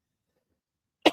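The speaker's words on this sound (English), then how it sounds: "Okay, sorry, I don't know why I'm coughing." A man coughs once, close and loud, after near silence.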